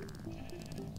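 A sheep bleats in the Minecraft video game, a short, steady, nasal bleat heard alone at moderate volume.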